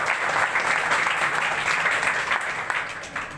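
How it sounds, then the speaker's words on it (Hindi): A seated audience at a product-plan presentation breaks into continuous applause, a steady close patter of many hands lasting the whole three seconds. "तालियां तो बनती है।"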